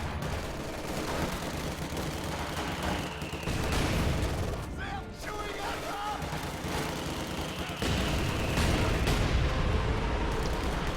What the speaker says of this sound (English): Luvnest has gone Katyusha to try and punish with the mortar spam